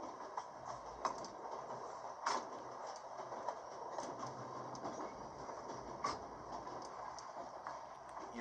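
A moving train in the video game The Raven Remastered: a quiet, steady rumble of rolling carriages with faint rhythmic clicks and occasional sharper knocks from the wheels, heard from inside at low volume with no voices.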